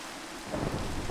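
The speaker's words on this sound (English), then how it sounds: "It did, however, start hailing and got windy enough to push my guy all around." Thunderstorm with rain and hail in the video game Minecraft: a low rumble of thunder swells under a steady hiss of rain, fairly faint, with no voices.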